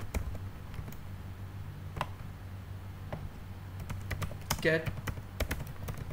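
Computer keyboard typing code, scattered light key clicks, sparse at first and then quicker toward the end, faint under a low steady hum while someone speaks.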